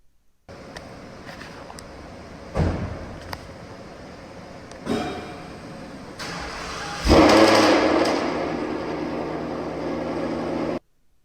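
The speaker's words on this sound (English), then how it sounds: "So as you can see, there was the cold start, so it's pretty loud." A 2022 Ford Mustang GT with Texas Speed catted longtube headers, a double helix X-pipe and Corsa Extreme exhaust cold-starts loudly, a few cranking bursts giving way to a sustained, roaring idle.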